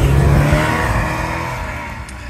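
Snowmobiles roar past on a winter hiking trail, a loud close engine drone that fades slowly as they pull away.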